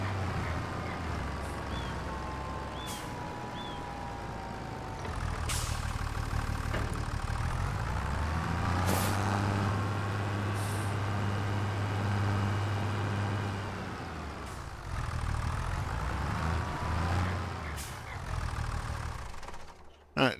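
Tractor engine idling and running in Farming Simulator 25, with snow on the ground at an off-grid homestead, a steady low rumble that swells and eases with throttle. Faint clicks and background sounds sit over the engine.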